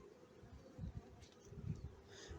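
A faint, low buzzing hum of many honeybees in a hive, steady with small swells, close by and quiet.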